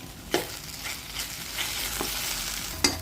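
Green chili, chili powder and turmeric sautéing in a pan, a soft steady sizzle with a few spoon scrapes and stirs standing out, close and moderately quiet with no voices.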